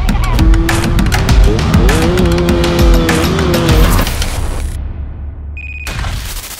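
A motorcycle fitted with a new 2024 NXL Racing exhaust revs hard close by. The engine pitch rises and falls in sharp, snarling bursts, then cuts back before a final blip.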